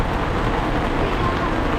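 Steady rain falls on a sailboat at sea, a continuous close broadband patter with no clear breaks and no voices.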